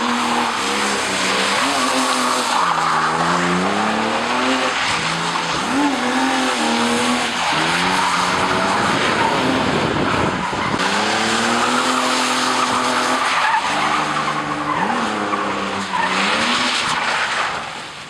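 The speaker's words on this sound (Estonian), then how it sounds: "See on muidu nagu driftipill või? Ralliauto on see." A Volvo 240 rally car with a swapped BMW M52 engine drifts, its tires squealing in long wavering screeches over a loud, continuously revving engine, sustained and close throughout.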